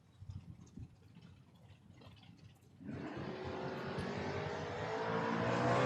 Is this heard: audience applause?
no